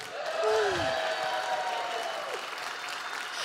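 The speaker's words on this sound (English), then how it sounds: "Round of applause." An audience at an evening church summit gathering breaks into warm, sustained applause that fills the room evenly, with a few voices and a whoop rising above it.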